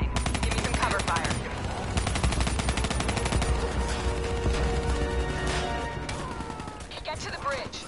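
Dense bursts of automatic gunfire and rapid shots rattle almost continuously in a Call of Duty Black Ops III battle, loud and close with crashing impacts.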